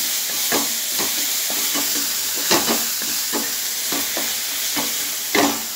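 Chopped onions fry in hot oil with spices under a steady loud sizzle, with regular scraping stir strokes about every half second and no talking.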